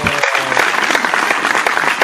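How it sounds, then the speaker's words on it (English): Steady applause from a small studio audience on a beer-themed talk show: dense, continuous clapping close by, sustained throughout at a fairly loud level with no talk over it. "A little round of applause for"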